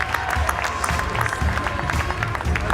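An audience at a stand-up comedy night applauds a comedian, a continuous wash of clapping with some crowd noise, moderately loud and steady throughout the short stretch.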